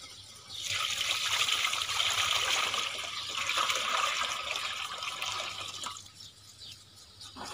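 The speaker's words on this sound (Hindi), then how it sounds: "गौमूत्र को डालेंगे।" Cow urine pours from a vessel into an empty container while jeevamrit is being prepared, a close, steady splashing stream lasting several seconds before it tapers off and briefly resumes.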